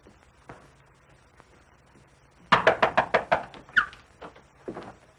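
A sharp burst of about six quick knocks on a wooden door, followed by a few slower, scattered raps, loud and close in an otherwise quiet room.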